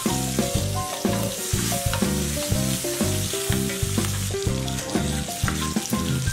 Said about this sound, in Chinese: 稍加翻炒即可